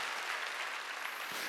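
A church congregation applauds during a Wednesday worship service, a soft, continuous patter of many hands heard at a distance, without talk, throughout the short stretch.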